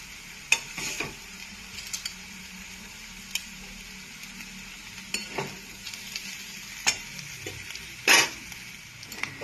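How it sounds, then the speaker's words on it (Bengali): A spatula scrapes and stirs boiled Maggi instant noodles with masala in a pan over a quiet, steady sizzle, with several sharp scraping strokes at irregular intervals. "এবার আমি এটাকে দিয়ে একটু ভালো করে নাড়াবো, নাড়িয়ে ভাজা ভাজা করবো ম্যাগিটাকে।"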